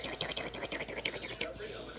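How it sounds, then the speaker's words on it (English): A woodpecker calls near Port Canaveral, Florida, with a quick run of about eight sharp, evenly spaced calls at moderate distance over soft outdoor background noise. "Oh, Woodpecker's here. You hear that?"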